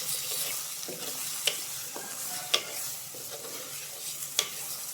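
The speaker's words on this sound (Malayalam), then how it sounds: "ഒരു 1/2 സ്പൂണ് മുളക് പൊടി. വീണ്ടും ഒന്ന് ഇളക്കുക." A spoon stirs green gram curry in a pan after chili powder goes in, giving a few sharp scraping knocks at roughly one-second intervals over a steady soft sizzle, nearby, with no one speaking.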